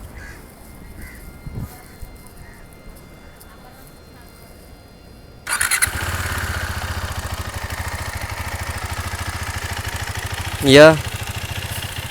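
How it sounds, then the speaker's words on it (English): A KTM Duke 390 BS6 motorcycle starts up partway through and settles into a steady, even idle, close and continuous, with a brief louder rev near the end; a short spoken word comes just before it. "Now let's quickly check out the exhaust note."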